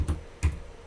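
Two distinct keystrokes on a computer keyboard click close to the microphone, evenly spaced, with quiet room tone between them.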